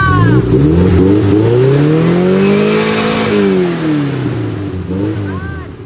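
A modified car engine, around 120 horsepower, revs loudly up close, climbing and falling in one long sweep and then giving a short second blip.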